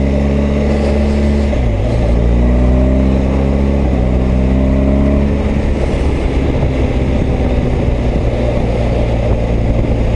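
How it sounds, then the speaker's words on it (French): A BMW R1250GS motorcycle fitted with a quickshifter pulls hard, its boxer engine rising in pitch through quick upshifts, loud and close, with steady wind rush over a continuous drone. "Voilà, j'essaye la 1250 GS. Alors elle est équipée du shifter."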